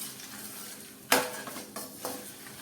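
Fennel seeds, curry leaves, green chillies, peanuts and cashews being stirred in a hot pan with the heat switched off: a soft crackling fry broken by three sharp scraping clatters of the spoon against the pan.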